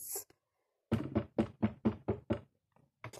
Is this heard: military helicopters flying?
no